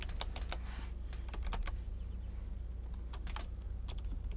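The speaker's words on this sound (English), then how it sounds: "Just smash the keyboard." Computer keyboard struck hard in quick bursts during a two-player Sensible Golf game, with clusters of sharp key clacks, then a pause and more clacks, all over a steady low electrical hum.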